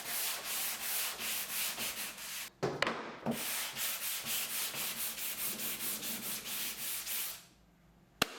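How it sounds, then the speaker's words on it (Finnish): Cabinet surfaces on a mid-century cabinet being restored are sanded with 120-grit sandpaper, giving steady rhythmic back-and-forth scrubbing strokes, close and loud, with a brief pause midway before the strokes resume and finally stop. "Hion pinnat vielä kertaalleen 120 hiomapaperilla."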